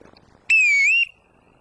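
A falconer blows a single sharp, loud whistle lasting about half a second to call a bird of prey back, with no talk around it.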